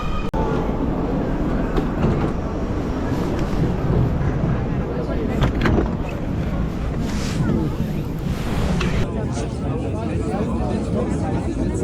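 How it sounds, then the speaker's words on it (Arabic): Crowded metro train carrying football fans to the stadium for a Bayern Munich derby, a loud steady rumble and rushing roar of the moving carriage, with people talking over it throughout. "المترو زحمه من كتر الناس اللي رايحه على الاستاد"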